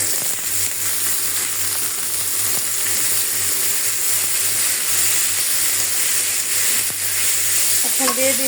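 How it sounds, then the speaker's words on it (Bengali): Green chili and onion crackle and sizzle in a hot wok for Bengali bitter gourd fry, a steady loud frying hiss with occasional stirring clinks near the end. "করলা ভাজির জন্য কড়াইটা বসাই দিলাম, দিয়ে দিলাম কাঁচামরিচ আর পেঁয়াজ।"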